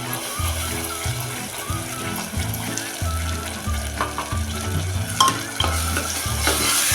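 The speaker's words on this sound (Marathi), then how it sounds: "मसाला तेल सुटेपर्यंत परतून घ्यायचा आहे" Ground masala paste stir-fried in hot oil with tomato for a mixed sprouted moth bean, cauliflower and potato curry, giving a steady sizzle with repeated scraping stirs of a spoon against the pan, close and fairly loud throughout.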